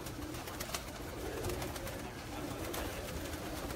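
Old flying pigeons, a Kasuri breed, coo softly and steadily together, a continuous murmur of calls at moderate distance with no talk over it.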